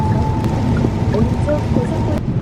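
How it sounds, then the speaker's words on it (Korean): Heavy rain pounding steadily on a car driving on a highway at about 70, a continuous dense drumming wash with low rumble, faint voice nearby. "계속 천둥번개 쳐."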